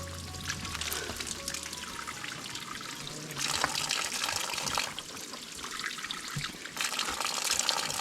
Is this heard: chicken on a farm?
no